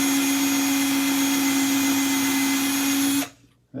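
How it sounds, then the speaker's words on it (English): Power drill cutting through an aluminum ceiling fan part, a loud close continuous whine that holds steady for about three seconds and then cuts off abruptly into quiet. "Because this piece that I'm drilling"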